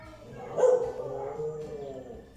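Dogs bark and yip a short way off, somewhat muffled and mixed with room noise, in one brief burst that fades into a lower whine.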